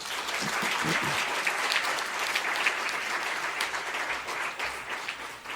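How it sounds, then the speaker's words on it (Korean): A church congregation applauds during a Sunday worship service, steady dense clapping filling the room at a fairly even level throughout, with no talk over it. "박수로 격려하겠습니다"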